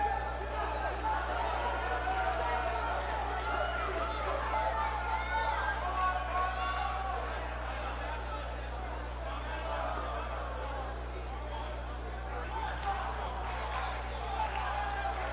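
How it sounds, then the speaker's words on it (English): A wrestling arena crowd cheers for Nevaeh Carter, a steady distant murmur of chatter and scattered shouts under a low constant hum, with no sharp peaks of applause. "Crowd firmly behind Nevaeh Carter out here."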